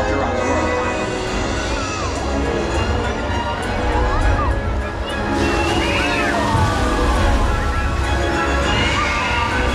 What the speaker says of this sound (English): you all just saw all of these waves crashing in front of you